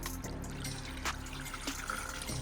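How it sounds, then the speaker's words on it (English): Water is thrown and poured over the body of a 1977 Camaro while a boot leak is tracked down, a steady splashing and trickling wash with a few sharper spattering bursts and no talking. "we're going to throw the water back onto the car and see where it goes"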